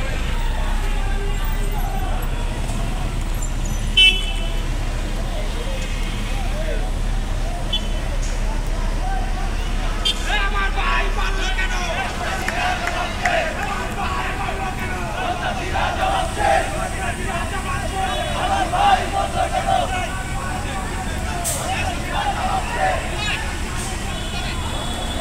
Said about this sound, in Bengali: আচ্ছা, একটা মিছিল, আপনারা মিছিল দেখেন।